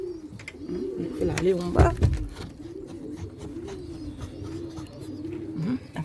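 Pigeons coo softly and steadily in a rooftop loft, their low murmuring calls running throughout, with a brief clatter partway through and someone speaking quietly over them.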